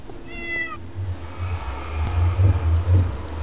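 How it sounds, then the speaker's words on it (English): A single short, high meow from a cat in Minecraft, clear and brief near the start, followed by low rumbling background noise. "What's wrong, cat?"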